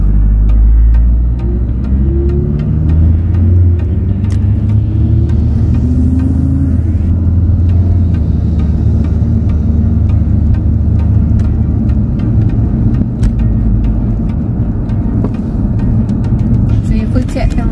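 A car driving through the streets of New Kingston, Jamaica, heard from inside as a steady, loud engine and road rumble that runs unbroken throughout, with no one speaking.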